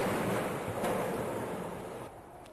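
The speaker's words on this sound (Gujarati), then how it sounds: "તોફાની દરિયાનો આક્રમક અવાજ આપે સાંભળ્યો।" Rough, storm-driven sea during Cyclone Biparjoy off the Gujarat coast roars loudly, with heavy surf and wind rushing continuously before easing slightly at the end.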